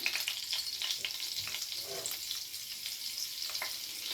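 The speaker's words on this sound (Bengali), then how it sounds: "পেঁয়াজ ভেজে যে তেলটা ছিল সেই তেলের সঙ্গে আবারও কিছুটা বাটার অ্যাড করে দিলাম" Butter melting into hot leftover onion-frying oil in a kadai sizzles steadily with a bright crackling hiss, close and even, with a few faint scrapes of stirring.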